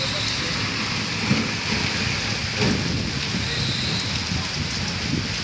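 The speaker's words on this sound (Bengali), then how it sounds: "প্রচণ্ড পরিমাণে ঝড় জল বৃষ্টি শুরু হয়ে গেছে।" Heavy rain pours during a storm, heard from shelter at a temple, as a dense, constant roar of downpour with faint scattered thuds of drops on surfaces.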